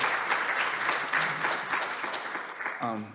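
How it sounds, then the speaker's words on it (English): Sustained applause fills a community health equity event as an audience claps for a video just shown, steady and fairly distant before fading, with a voice starting to speak at the very end. "If we can we give another round of applause for the video?"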